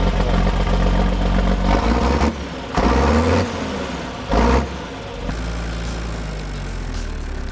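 John Deere 4430 tractor engine idling steadily nearby, a deep continuous rumble with a few louder surges, no talk over it.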